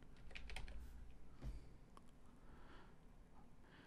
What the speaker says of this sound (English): The simplest thing to do is to start typing,